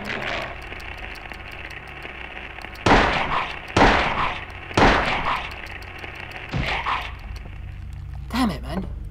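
Sharp, loud gunshots in the Silent Hill video game, four heavy blasts spaced about a second apart with a fainter shot afterward, over a steady hum of in-game radio static.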